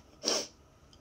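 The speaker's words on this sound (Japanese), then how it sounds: "くしゃみです。" A single short sneeze, fairly soft and close, with a brief breathy burst and quiet room background.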